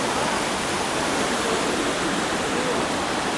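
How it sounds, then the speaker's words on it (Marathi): Water pours steadily beside a temple perched on a single unsupported rock, a dense, continuous rushing roar close by that stays even in level throughout with no voices. "भरपूर मस्त पाणी येतंय."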